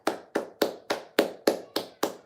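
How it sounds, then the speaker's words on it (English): Applause from a talk-show audience comes as eight slow, evenly spaced, close claps, sharp and distinct, with no voices over them. "Let's give her a round of applause."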